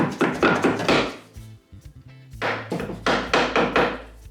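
A hammer taps wall plugs into drilled holes in a wall, with two close bursts of quick, sharp, hollow knocks separated by a brief pause.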